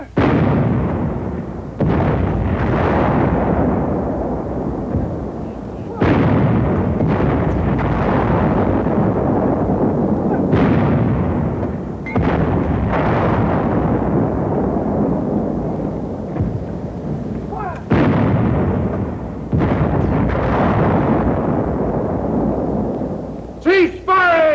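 Infantry gun firing repeated heavy shots at a four-foot-thick roadblock, each booming blast followed by a long rumbling decay, roughly evenly spaced, with a voice in between.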